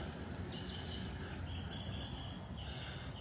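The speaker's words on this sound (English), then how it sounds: "Listen to these birds and everything." Birds chirp outdoors in Florida near a magnolia tree, thin, faint repeated calls drifting over a soft, steady ambient hiss.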